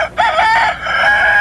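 A rooster at a busy animal market crows loudly and close, one long strained cock-a-doodle-doo call that rises and holds, with faint background market noise.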